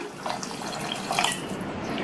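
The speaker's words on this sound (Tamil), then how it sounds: "இப்போ இதில் 1 கப் தண்ணி சேர்த்துக்கலாம்" Water streams steadily into a pot, a cup added for a gravy, with a soft splashing, trickling texture, close by and continuous for a couple of seconds, no voices.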